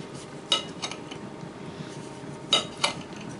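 A knife slicing baby potatoes on a board gives four sharp, close taps in two pairs, with quiet room tone between them and no talking.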